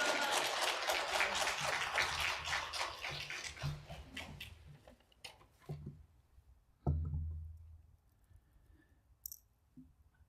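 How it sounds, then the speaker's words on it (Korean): A church congregation applauds to welcome the pastor at a 43rd-anniversary Sunday service of a Full Gospel church in Baltimore. Dense clapping fills the first five seconds, then thins and fades into scattered quiet clicks and room noise. "우리 나오실 때 박수로 환영하겠습니다."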